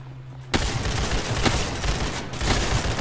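Rapid gunfire erupts in the Roblox game Ragdoll Universe after a brief quiet moment, a dense burst of shots that carries on loud and unbroken for a couple of seconds.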